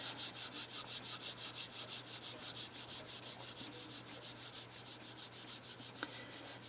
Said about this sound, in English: Just rub it between my hands a little bit, just enough to warm it.